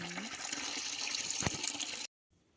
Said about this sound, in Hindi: मैं भर के लाती हूँ पानी